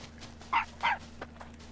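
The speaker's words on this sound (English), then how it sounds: "Stop barking!" A dog in the video game Time on Frog Island gives two short, sharp barks close by, then a fainter yip, over quiet game background.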